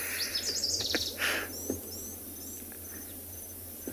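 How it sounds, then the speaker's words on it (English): A wild bird on an afternoon safari gives bright, repeated chirping calls in short trills, fairly close, over a faint bed of insect buzz. "What is this bird saying to me right now?"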